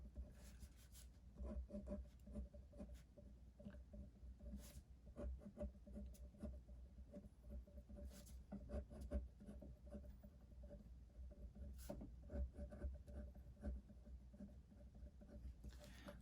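Marker squeaking and scratching across a board while writing out chemistry ions, a series of short, close strokes and taps in an uneven rhythm, fairly faint, with no speech.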